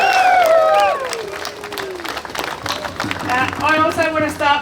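An audience at a May Day event applauds and cheers, with clapping and shouts swelling at first, dipping, then rising again while voices call out over it.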